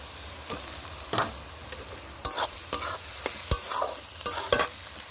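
Tomatoes tossed into chicken frying in a pan over a wood-fired stove, a constant sizzle broken by sharp clacks and scrapes of a spoon stirring in an uneven rhythm, close and loud.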